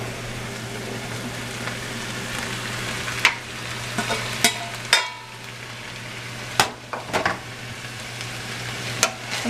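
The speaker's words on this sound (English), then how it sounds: "So now I'm going to add the pasta to the ground beef." Pasta and ground beef are stirred in a frying pan under a soft, steady sizzle, with scattered spoon knocks and scrapes against the pan, close and with no talk.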